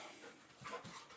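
A dog pants close by, quick soft breaths repeating in a short, faint burst with no talk.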